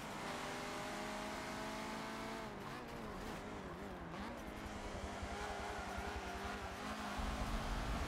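Race cars in Forza Motorsport 7 accelerating away at a race start, with layered engine whines rising in pitch, revving and faint tire squeal, loud and continuous throughout.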